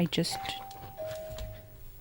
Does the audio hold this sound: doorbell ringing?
yes